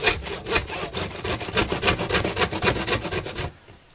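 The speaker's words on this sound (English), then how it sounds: "a tenon saw for cutting wood. It gives a lovely straight line." A fine-bladed tenon saw cuts a narrow straight slot in wood for a G scale model railway station building. Rapid rhythmic back-and-forth rasping strokes sound close up, then stop abruptly near the end.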